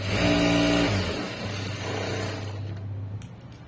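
A sewing machine stitches the front part of a blouse, its motor giving a steady close whirring hum that slows and continues more softly toward the end.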